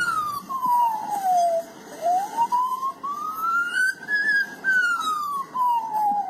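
A bird mimics a fire engine siren with a single clear, wavering whistle that falls, dips, then rises and slowly slides down again, a steady close wail over faint background noise.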